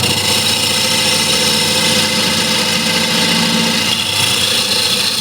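A wood lathe spins at 850 rpm while a spindle gouge trues up the foot of a partly dried wooden bead bowl, giving a steady, loud mechanical hum with a scraping cutting tone and no talk.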